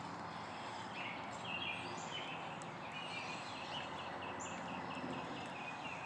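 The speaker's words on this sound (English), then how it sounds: "We got some sparrows that's moving in once again." Sparrows chirp outdoors on a morning walk, a faint steady scatter of small calls over continuous broadband background noise, with no talking.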